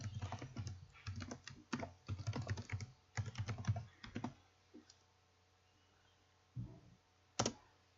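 Typing on a computer keyboard to enter an email address: bursts of quick, close key clicks for about four seconds, then sparse isolated taps and a final louder keystroke, with no talking.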